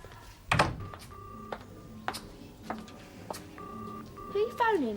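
A telephone being dialed, a string of separate short electronic tones spaced out over a few seconds, with a brief voice and some room noise around them.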